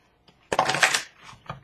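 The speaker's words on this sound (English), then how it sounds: "I think I'll really shuffle these" Tarot cards being shuffled by hand during a reading, a brief soft tap followed by a close, papery riffling burst that trails into lighter rustles and a final flick.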